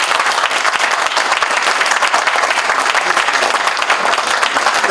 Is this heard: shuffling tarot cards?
no